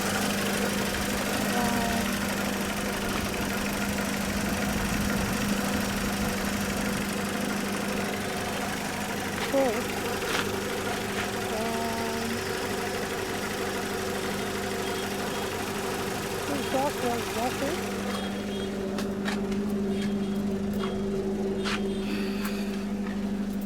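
A Peugeot 307 engine idles steadily up close with its radiator cooling fan running, a continuous low hum and whir with occasional faint clicks and knocks, and no talk over it.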